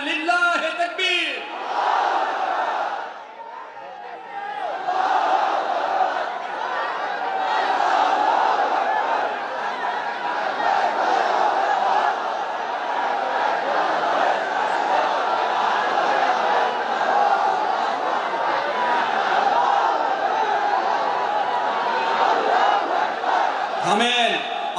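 Large crowd at an outdoor Islamic sermon (waz) in Nawabganj, Dhaka, chanting takbir in unison; a loud, sustained roar of many voices that swells and holds for most of the stretch, with a brief dip early on.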